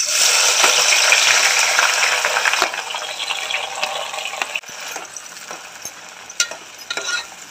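Onions dropped into hot oil with whole spices in a heated pot for chicken biryani fry with a loud, dense sizzle that is strongest at first, then eases into a steadier crackle broken by a few stirring clicks.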